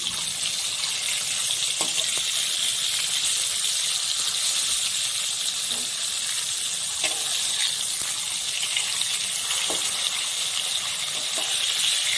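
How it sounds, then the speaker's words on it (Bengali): Flipped tengra fish frying in mustard oil, a constant hissing sizzle close up with small intermittent pops and crackles across the whole stretch, even in loudness, with no voices. "মাছটাকে এখন আমি উল্টে দিব।"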